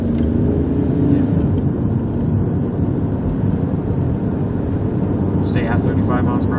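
A 1995 Oldsmobile 88 with a 3.8L 3800 V6 cruises in third gear at around 35 to 40 mph, a steady low engine drone and road rumble under people talking inside the cabin.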